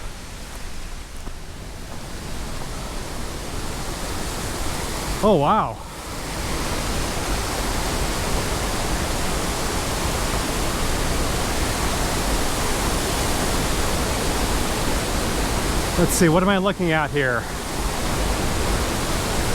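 A mountain gorge waterfall roars as a constant broadband rush throughout, loud and steady, while someone speaks briefly over it twice.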